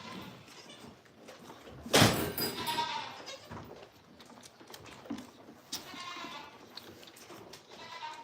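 Goats on a goat farm with one loud bleat near the start, then softer bleats and scattered farm noise at mid distance.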